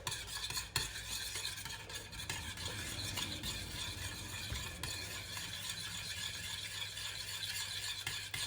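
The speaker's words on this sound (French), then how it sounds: "et là, on vient remuer tout doucement" Crème fraîche being gently stirred for a salmon papillote gives a continuous soft scraping and swishing close by, steady throughout with no voices.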